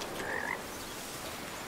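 A frog croaks in the video game Blacktail. It gives one brief, faint croak over a low, steady ambient background, with no speech.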